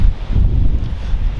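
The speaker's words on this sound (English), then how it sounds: "it's so windy that it's blowing them everywhere" Strong wind buffets an outdoor microphone with a steady low roar and gusty rumble, loud and continuous with no talking.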